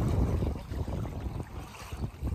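Rushing water around a small boat on Lyons Creek near the Chippawa River in Niagara, with a steady low churning roar, wind buffeting the microphone close by, and no one talking.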